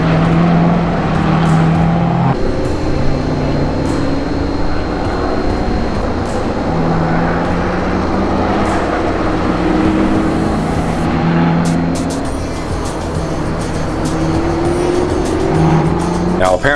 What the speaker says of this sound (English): Looks like there's some Corvettes going out for the Corvette driving school.